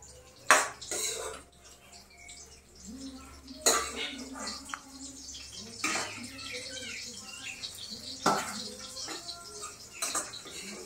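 Dishes and cutlery clatter in a home kitchen while fried potatoes are served onto plates, with several sharp clinks spread over the stretch, a faint trickle of water and some background talk.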